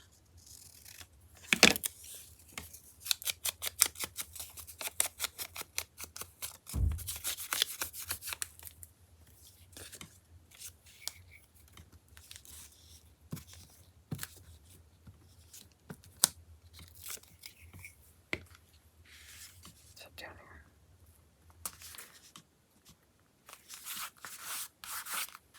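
Rapid runs of crisp snipping and rustling paper come in bursts, followed by scattered single clicks and rubbing. The sound is close and quiet, with no talking.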